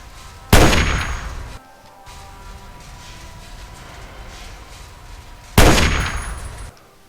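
Two loud, sharp gunshots from the video game Fallout 3 ring out with long metallic tails, spaced several seconds apart, with quieter game ambience in between.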